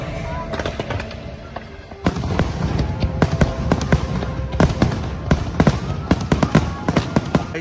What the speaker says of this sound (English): Yeah, so fireworks have just finished. Pretty decent firework display.